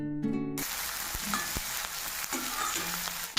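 Onion, green chili and chana dal frying in a pan for rava upma, a steady close sizzle with faint stirring clicks, following a brief tonal sound at the very start.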